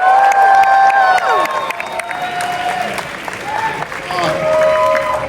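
A crowd at a Midsummer Scream haunt-convention panel applauds and cheers loudly, with whoops and high shouted voices rising over the clapping and voices heard throughout.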